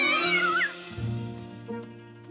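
A cartoon cat lets out a drawn-out, wavering meow near and loud, followed by lower, fainter cat noises over a soft musical background.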